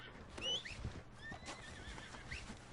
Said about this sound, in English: Where did that horse go?